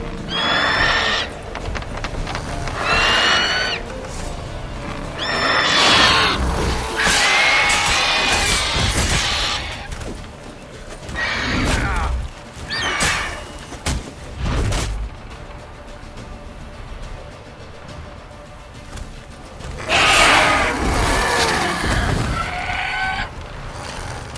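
A horse in The Witcher 3 video game neighs and whinnies repeatedly in loud bursts, mixed with clip-clopping hooves and game sounds across a long stretch without speech.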